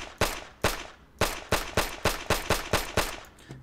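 Single shots from a World War II grease gun in a video game mod ring out as nine sharp, loud, evenly spaced reports in quick succession, each with a short decaying tail and no talking.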